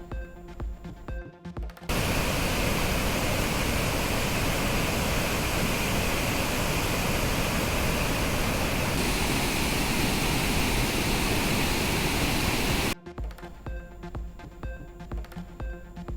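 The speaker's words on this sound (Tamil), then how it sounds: "வறண்டு கிடந்த ஒகேனக்கல் அருவிகளில் ஆர்ப்பரித்து கொட்டும் தண்ணீர்" Water pounding down the Hogenakkal falls on the Kaveri river, a loud, dense, continuous roar of rushing water that cuts in abruptly and holds steady for about eleven seconds between quieter stretches of background music.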